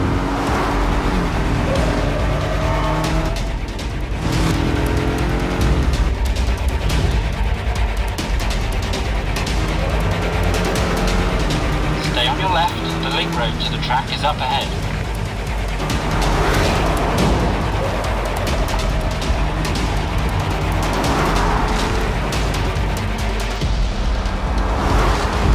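A 2019 Jaguar XE 300 Sport on a flying lap over a closed road section of a racing circuit, its engine revving hard and climbing through repeated gear changes, loud and continuous.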